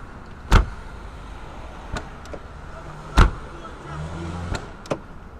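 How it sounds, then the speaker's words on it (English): A 1991 Mercedes SL500 door shuts with two loud, solid clonks a few seconds apart, with a few lighter latch clicks and faint background hiss between them. "I'm gonna shut the door for you real quick so you can hear this."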